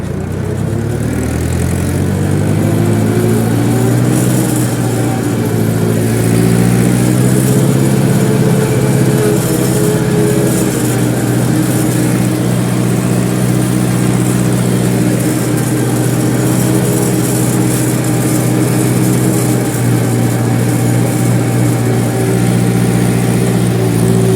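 An Ursus C-360 tractor engine running steadily, a loud, close, continuous diesel rumble with a low throb that shifts slightly in pitch early on, then holds an even idle-like drone throughout.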